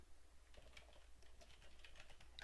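Soft rapid keystrokes on a computer keyboard as text is entered into a Visual Basic 2008 text box property, a quiet patter of light taps close by with no voice.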